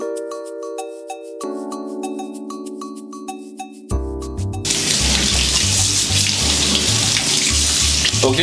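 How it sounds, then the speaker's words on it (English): Dishes are washed under a running tap in a home kitchen. Chiming tonal music plays for the first few seconds, then a loud, steady rush of tap water takes over and continues to the end over a low beat. "I'm washing the vessel."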